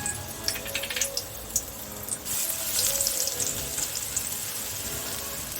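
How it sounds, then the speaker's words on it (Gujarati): Garlic added to a pan of hot oil, a quick crackle rising into steady close sizzling that carries on alone while cooking pasta. "તો હવે તેમાં આપણે લસણ એડ કરી દઈશું."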